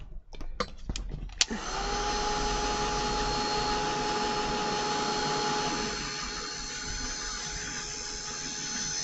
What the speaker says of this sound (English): I'm just going to whack this with my heat gun.